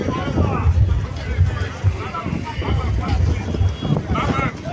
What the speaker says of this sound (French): Le vent est violent